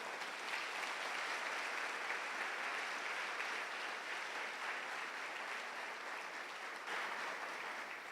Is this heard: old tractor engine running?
no